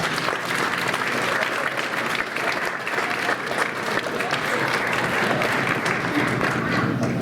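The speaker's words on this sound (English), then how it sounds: "Would you guys give yourselves a round of applause?" Parents and students in the audience at a winter school band concert applaud, a dense continuous wash of clapping that holds steady throughout, with some voices mixed in.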